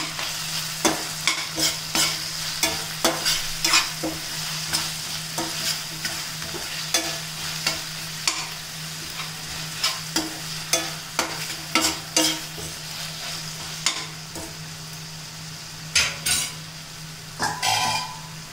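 Tomato frying with ginger garlic paste in a pan for a jackfruit seed curry, a steady close sizzle broken by repeated clinking scrapes of a spoon stirring against the pan.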